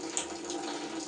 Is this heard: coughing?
no